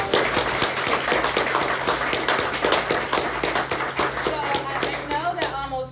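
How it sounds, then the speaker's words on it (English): A crowd applauds steadily at an outdoor dedication ceremony for Judith Ledbetter in Charles City, the dense clapping loud and continuous throughout, thinning slightly toward the end. "So can we give her a round of applause?"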